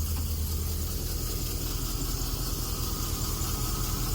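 A C3 Corvette engine idles steadily and evenly at a low rumble, close by, with no voices and no change in pitch throughout.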